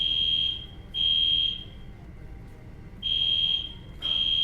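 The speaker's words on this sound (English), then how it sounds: "Oh my god, there's a fire alarm, really?" A building fire alarm rings indoors in loud, steady electronic bursts, about four pulses separated by short pauses, with no talking over it.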